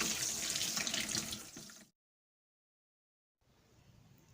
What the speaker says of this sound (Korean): 이제 물로 그 소금을 이제 헹구어 주겠습니다